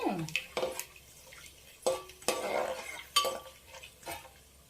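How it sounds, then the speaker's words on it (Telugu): Nutmeg and cashews fry in a pan for a biryani, with faint sizzling and several sharp scrapes and clinks as a spoon stirs against the metal, spaced irregularly. "తర్వాత జాజికాయ, తర్వాత జీడిపప్పు, చక్కగా వేగిన తర్వాత"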